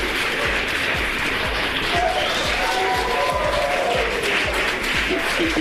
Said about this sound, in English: Here's the team back on Earth cheering them on.